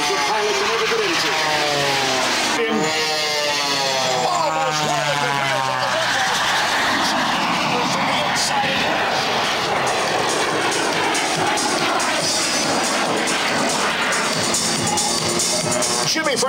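Stunt plane engine at an airshow during an aerobatic flat spin, a steady loud drone that shifts pitch as it rises and falls, with a commentator talking over it throughout.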